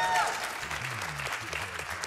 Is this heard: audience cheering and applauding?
yes